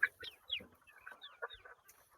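Chickens about four months old, kept at a farm and fed grass, cluck and call in a busy run of short, sharp calls spread over two seconds. The calls are close and moderately loud, with no talking.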